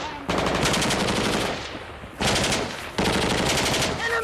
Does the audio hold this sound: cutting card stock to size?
no